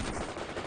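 Rifle gunfire from a battle in the World in Conflict: Soviet Assault strategy game, a dense, continuous crackle of overlapping shots at a steady, moderate level.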